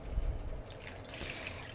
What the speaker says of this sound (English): And then let's add 2 cups of water.